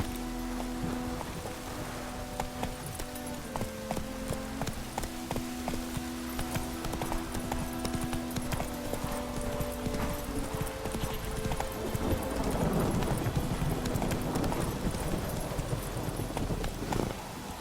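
Horse hooves clip-clop at a steady galloping rhythm in The Witcher 3 video game, continuous and fairly loud over game music and ambience, growing busier and louder near the end.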